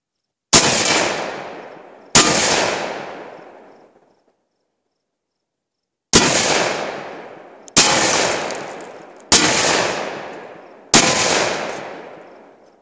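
A .223 rifle firing FMJ rounds at a safe gives six loud, sharp gunshots, each with a decaying echo, spaced irregularly with a longer gap after the first two.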